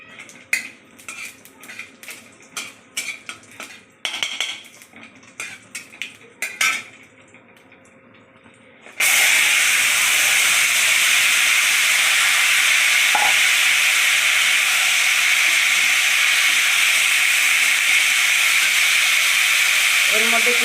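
Fried hilsa and radhuni spice hit hot oil, giving a loud steady sizzle that starts abruptly after several seconds of clinking pans and utensils and holds for the rest of the clip.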